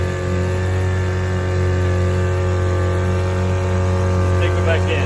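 A restored 1949 Johnson JV 2.5 HP outboard motor runs steadily on a California lake, giving a loud, even drone with a constant low hum throughout.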